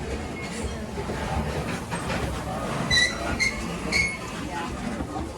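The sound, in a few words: long freight train passing, Indiana Northeastern diesels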